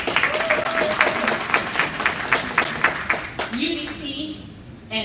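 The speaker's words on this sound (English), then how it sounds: "Can you give me a wonderful round of applause?" An audience applauds at an exhibition and ribbon-cutting ceremony. Clapping is moderately close and fades after about three seconds, then a voice speaks.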